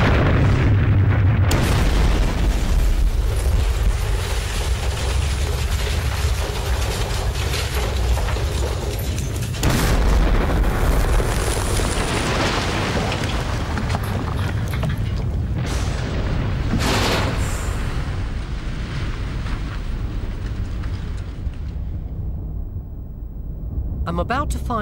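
Heavy bomb blasts rumble and boom through a street during a Blitz air raid, a long loud barrage of deep explosions and crashing debris with a voice speaking over it.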